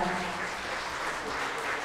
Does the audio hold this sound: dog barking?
no